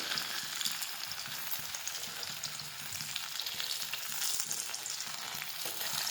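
Masala-coated raw plantain slices fry in oil with a dense, continuous sizzle and crackle, close and fairly soft, steady throughout with no voices.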